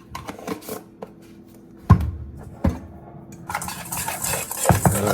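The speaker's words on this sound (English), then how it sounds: "Mix that up." Apple pie filling with cornstarch stirred in a bowl, scattered scraping and clinking of a utensil against the bowl with a few sharper knocks and a busier stretch of mixing near the end.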